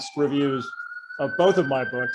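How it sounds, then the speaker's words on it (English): A police car siren passes on the Upper West Side of New York, a steady wailing tone running through the whole stretch beneath a man's ongoing speech. "I'm sure you can hear the siren going by."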